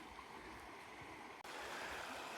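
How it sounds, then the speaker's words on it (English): Continuous rushing water of the fast-moving River North Esk, a steady broadband wash, fairly quiet and unbroken apart from a brief dip. "I have to say that's a very fast flowing river at that bit."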